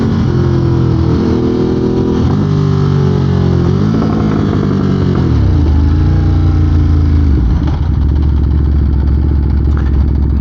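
A 2022 Ducati Monster with changed gearing runs loud and close, its engine note rising and falling through several rev changes with a steady rumbling throb and no voices.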